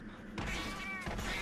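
A cat-like monster in Monster Hunter 3 Ultimate lets out a quick meowing cry, fairly faint against background game noise.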